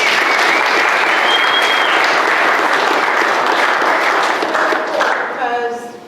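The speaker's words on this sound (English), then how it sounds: "Give him a round of applause." A crowd at a daily recap event applauds loudly and steadily for about five seconds, the clapping thinning and fading at the end as a voice begins to speak over it.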